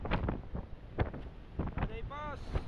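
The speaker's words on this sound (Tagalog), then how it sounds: "Ang lakas ng hangin nito. Pinakamalakas na hangin na to" Strong gusting wind at a house by the sea roars in buffeting bursts against the microphone, with someone talking through the blasts.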